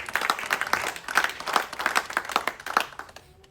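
A church congregation applauds during worship, with dense, steady clapping from many hands that swells in rhythmic waves and fades slightly toward the end.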